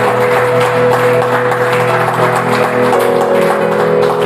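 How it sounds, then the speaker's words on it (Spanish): Church congregation applauding during a service, a continuous wash of clapping under a steady droning tone from sound equipment or music. "¿Cuánto dan un fuerte aplauso a la que vive y reina?"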